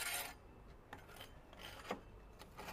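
A tool scrapes over a freshly set smooth concrete-finish coat on a wall, giving faint, rasping strokes, one longer pass at the start followed by several short, separate scrapes.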